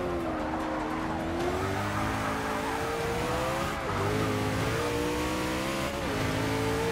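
A 2015 Koenigsegg One:1 in the racing game Forza 6, accelerating hard: a loud, continuous engine roar climbing in pitch, dipping at each gear change, with some tire squeal.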